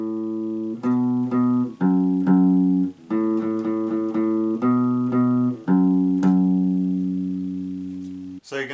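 Plucked acoustic guitar melody played as a lesson section, with clear single notes and sustained ringing tones in a steady rhythm, close and loud, ending with a long decaying note and no talking.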